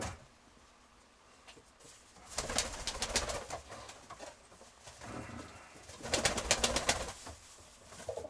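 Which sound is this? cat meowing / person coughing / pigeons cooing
pigeons cooing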